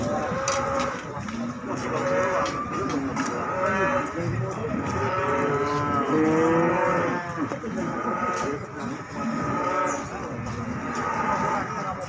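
Limousin and other cattle lowing repeatedly at a busy livestock market in Muntilan, Magelang, with several overlapping moos close by over steady crowd noise and people talking.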